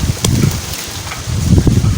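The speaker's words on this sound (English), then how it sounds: "it's very windy" Wind blowing hard through trees in woodland on a hot, windy day, a steady broadband rush with gusty swells and leafy rustling, fairly close and continuous throughout.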